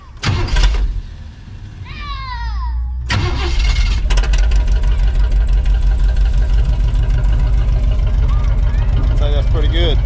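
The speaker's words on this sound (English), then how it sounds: "Turn the ignition on." A 1976 Chevy K10 shortbed pickup, left abandoned for ten years, cranks briefly and then fires into a loud, steady idle up close. A short spoken remark comes before the start.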